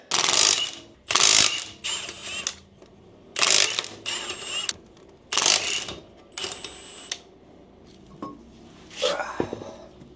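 A car jack is worked under the differential of a 1992 Mazda Miata, giving a series of loud, close ratcheting bursts at an uneven pace, each a second or so long, separated by short quiet gaps.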